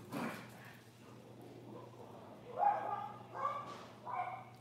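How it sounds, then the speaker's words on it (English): Dogs bark outside while playing, a few muffled, somewhat distant barks and yips spread across the moment over a low background hum. "My dogs are having a ball outside."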